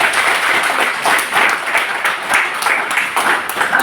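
A seminar audience claps together at a business management motivation event, producing a steady, dense wash of applause that holds at even strength for several seconds with no talking over it.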